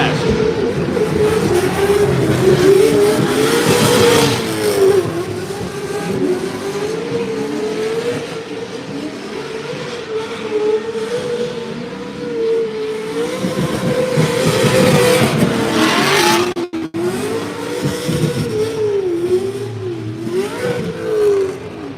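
A drift car runs at Formula Drift New Jersey during ProSpec warmups, its engine howling loud and sustained with wavering revs that rise and dip through the run, a brief cut near the end, no talk over it.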